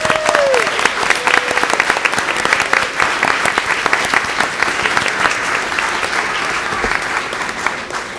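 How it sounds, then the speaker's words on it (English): Dense, loud round of applause from the audience at a Putnam Valley board of education meeting honoring tenure and retiree recipients, continuous clapping throughout, with a brief tonal squeak near the start. "So maybe one last round of applause for all."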